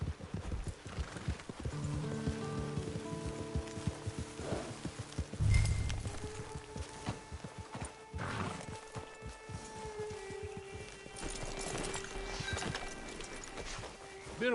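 Horse hooves clip-clop on the ground in the Red Dead Redemption 2 video game, a steady walking rhythm near a camp, with a brief whinny and layered game music and ambience around it.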